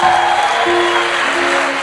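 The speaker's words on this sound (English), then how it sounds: "Give Terry a big round of applause." Brief burst of crowd applause at an event, dense and loud clapping with a faint sustained tone running underneath.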